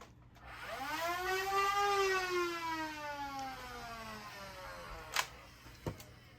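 A Siren Blink half-dart blaster, switched on at its lowest setting, lets out a close harmonic motor whine that climbs quickly and then winds down slowly over several seconds, ending with a couple of sharp mechanical clicks.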